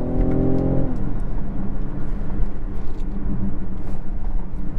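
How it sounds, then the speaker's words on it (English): A 2019 BMW X6 40i in sport mode with manual gear changes gives a deep engine hum that drops as a gear is shifted, then a steady low rumble and road noise from inside the cabin. "Put the gearbox over into sports mode, and I'm going to change the gears manually"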